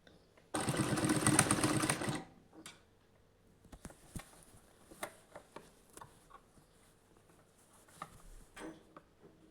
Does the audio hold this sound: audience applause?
no